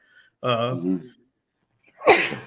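A person sneezes once, a sharp, breathy burst near the end of a quiet stretch that follows a short voiced sound, during an indoor sports-industry conversation.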